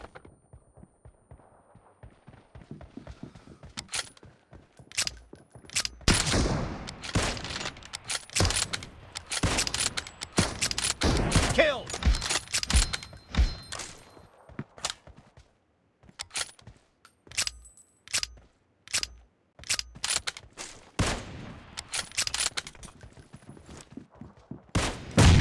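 BGMI gunfire crackles in dense bursts of sharp, close shots, with rapid automatic volleys and scattered single reports over about twenty-five seconds, separated by a few short quiet gaps.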